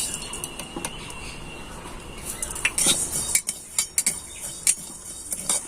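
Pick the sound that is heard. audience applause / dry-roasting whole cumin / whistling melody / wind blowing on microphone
dry-roasting whole cumin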